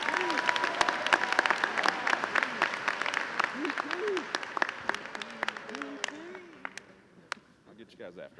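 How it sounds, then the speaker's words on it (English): Steady applause from a crowd at a high school commencement ceremony in Ann Arbor, loud and sustained for several seconds before tapering off, with a voice briefly audible underneath. "Please, let's give him a round of applause."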